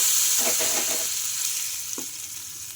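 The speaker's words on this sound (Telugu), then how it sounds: "ఈ చట్నీలోకి అయితే వేసుకుంటున్నా" Hot tempering with asafoetida is poured into chutney and sizzles: a steady bright hiss with a few short crackling bursts, close and alone.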